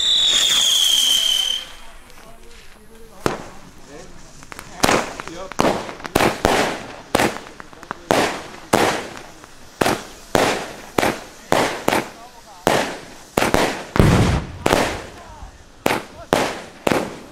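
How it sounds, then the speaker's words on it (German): A 16-shot Weco Kalimbo firework battery from a Lidl assortment fires a long series of sharp evenly spaced bursts, each a loud crack, after an opening whistling launch. "Als nächstes folgt die 16-Schuss-Batterie Kalimbo."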